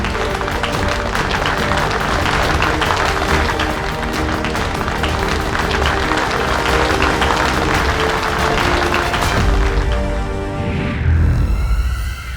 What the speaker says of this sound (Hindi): इसी बात पे शूरवीर विवान के लिए जोरदार तालियां